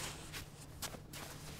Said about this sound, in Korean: 여기 모래사장을 걷는 소리부터 한번